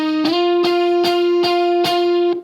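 Electric guitar through Helix effects picks a steady run of about five evenly spaced notes, each ringing bright and sustained into the next, close and alone.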